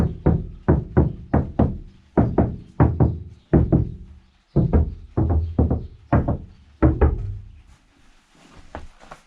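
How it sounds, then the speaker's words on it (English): A run of dull, hollow knocks on a VW Transporter T5 van's metal panel with only factory sound deadening, about a dozen raps in quick bunches, close and fairly loud, then a faint rustle at the end. "this is the sound of a panel with its just original Volkswagen sound deadening on it"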